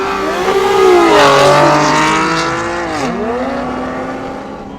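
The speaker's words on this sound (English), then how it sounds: "Hey, roll the burnout" Car revving hard at a cars and coffee meet during a burnout, engine pitch sweeping up and down with a loud, close, sustained roar.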